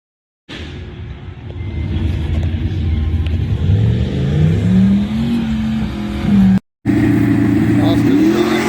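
An LT1 Camaro making a drag racing pass roars up loud and close, its engine note climbing steadily through the gears with a brief cut around a shift before pulling hard again, with faint voices underneath.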